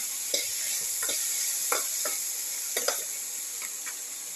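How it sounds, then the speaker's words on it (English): Food sautéing in a pan, a constant hiss of frying with periodic scraping strokes of a utensil every half second or so, close and without talk. "Thoroughly sauteing it."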